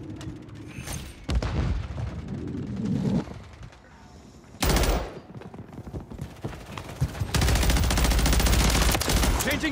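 Gunfire in a multiplayer shooter, with machine-gun bursts and single shots coming in loud waves and ending in sustained heavy fire, and voices and radio calls mixed in.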